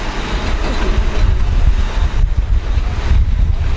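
Strong wind on the Blackpool seafront buffets the microphone in a loud, continuous low roar, with steady gusting rumble and hiss running through the whole stretch and no voices.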